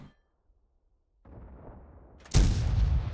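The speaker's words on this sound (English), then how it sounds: "Get a quick shot onto this AMX-30." A tank cannon fires at an AMX-30 in World of Tanks, one loud, close, broadband blast with a heavy rumbling tail after a quieter stretch of engine-like noise.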